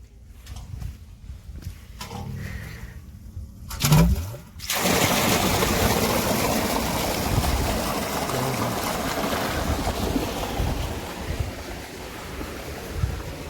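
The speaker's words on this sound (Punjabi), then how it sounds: "ਹੁਣ ਉਹ ਵਾਲੀ ਮੋਟਰ ਚਲਾਉਨੇ ਜਾ ਕੇ" An irrigation water pump motor runs in a wheat field, a steady, loud, broad rushing drone that starts abruptly a few seconds in after quieter handling sounds and continues unbroken.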